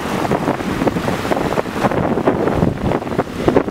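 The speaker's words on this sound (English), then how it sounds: "That wind's coming up ever so slightly now." Wind buffets the microphone on a coastal bluff at Bluff, Southland, New Zealand, a loud, continuous gusty rumble with fluttering bursts and no speech.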